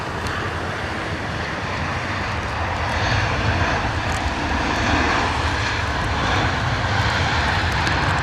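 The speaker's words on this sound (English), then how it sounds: "British Airways A320 in the door." A British Airways Airbus A320 lands at London Heathrow in wet, windy weather, with a broad, steady engine roar and the wash of rain and wind holding loud throughout, swelling slightly as the jet passes.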